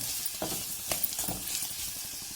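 Turmeric and chili powder are stirred into a sizzling pan of hotel-style puri curry, giving a steady frying hiss with scraping stirs and a few light clinks of the spoon, close and alone.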